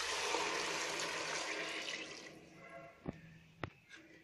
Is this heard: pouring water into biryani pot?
yes